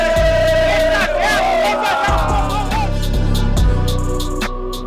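Botafogo supporters gathered in a park near the Monumental stadium before the 2024 Copa Libertadores final sing loudly together. The massed chant is close and continuous, with drum-like thumps and shouts.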